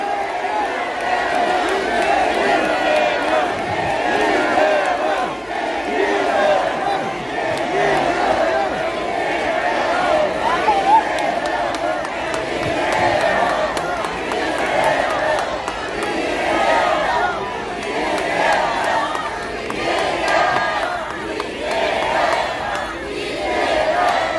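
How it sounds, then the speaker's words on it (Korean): A large crowd at a Korean political candlelight rally roars and cheers continuously, loud and sustained, with shouts and whoops blending into a steady wall of noise. "박수로 이재명 대표에게 힘을 주십시오"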